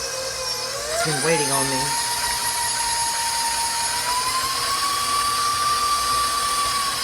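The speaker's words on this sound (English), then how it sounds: "Let me turn off the mixer" Electric stand mixer creaming soft salted butter for white and milk chocolate cranberry cookies, a steady loud motor whine with a brief pitch shift, running continuously while a person speaks briefly over it.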